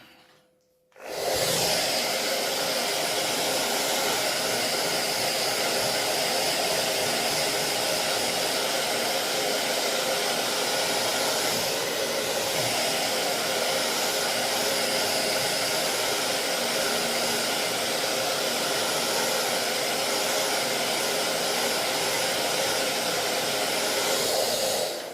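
A hair dryer blows a steady, loud, close whoosh over a wet watercolour painting of birch trees, switching on abruptly near the start and running without a break to the end.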